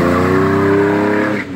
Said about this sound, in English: One wheel burnout, boy.